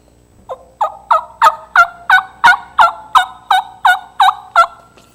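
A wild turkey gobbling in a fast series of about thirteen loud, close, rattling calls that start soft and build, each a sharp burst evenly spaced, heard alone.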